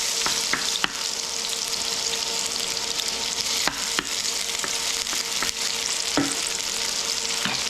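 Avocado oil sizzles and crackles steadily in a pan on the stove, close and even throughout, with occasional sharp pops and clicks of utensils.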